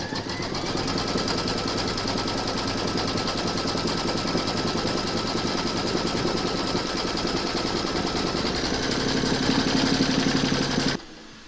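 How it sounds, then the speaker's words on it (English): An embroidery machine stitches round one of a placement outline in a hooped bib, a fast steady mechanical chatter at even volume that runs for about eleven seconds and then stops abruptly. "Pop your hoop into your machine and stitch round number 1, and that's going to give you your placement outline for your batting."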